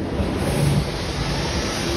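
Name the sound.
strong wind outdoors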